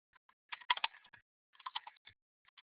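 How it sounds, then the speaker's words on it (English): Typing on a new computer keyboard, with two bursts of quick key clicks separated by a short pause and a few scattered taps at the end. The clicks are close and fairly quiet, and no one speaks. "A new keyboard, so I'm making a lot of typos."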